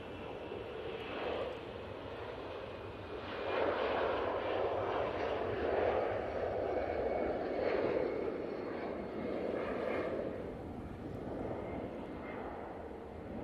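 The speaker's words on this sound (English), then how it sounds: "this Easyjet to Berlin's now on the roll" EasyJet airliner rolling for takeoff at Manchester Airport toward Berlin, jet noise building from a distant hum to a fuller roar midway, then easing slightly, heard from afar without talk.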